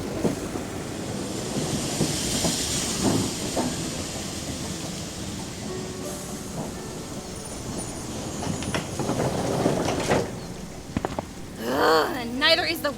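Train running on rails into a station, a continuous rumbling hum with faint rhythmic clatter under people talking, rising toward the end.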